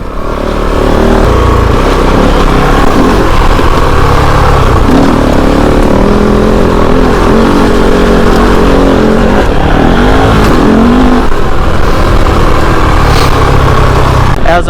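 A Kove 450 Rally motorcycle ridden at high road speed, with a loud, sustained engine drone and heavy wind rush that stay constant throughout, with no pauses.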